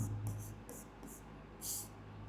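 Chalk or marker writing on a classroom board during a Class 10 maths lesson, a few short scratchy strokes in bursts, the loudest near the end, over a low steady hum with no talk.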